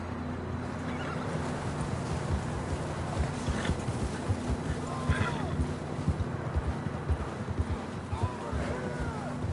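Horses gallop in a console video game, rapid clip-clop hoofbeats amid wind, with an occasional whinny and voices speaking over the action.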